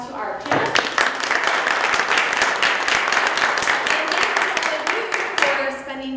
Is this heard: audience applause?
yes